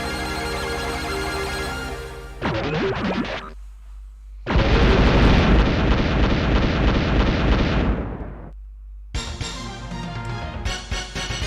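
Rocket launcher blast in the retro game Wild Arms: a long, loud roaring explosion burst lasting several seconds, set between stretches of chiming game music and tones.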